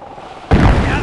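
Artillery fire and explosions from the World War II strategy game Company of Heroes, Falaise Pocket mission: a quiet half second, then a sudden loud, broadband blast that holds as a heavy rumbling roar to the end.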